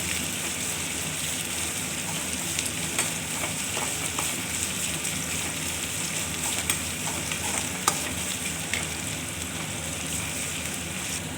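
Onions sizzle steadily in a hot pan for rava upma, with an even frying hiss and occasional light stirring scrapes throughout.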